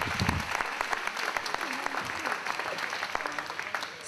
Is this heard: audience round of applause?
yes